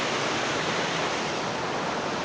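Oxford Falls cascades and waterfall in Sydney, a steady, dense rush of falling water close by, continuous and loud with no break or voices.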